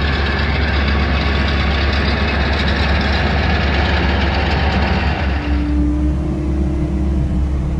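A big cab tractor idling on a hay farm, a steady low rumbling engine close by that settles into a slightly lower, smoother tone toward the end, with no talk.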